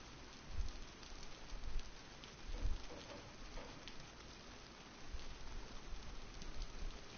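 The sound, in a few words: rain in a survival video game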